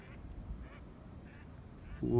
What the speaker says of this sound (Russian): Вон утка полетела, смотри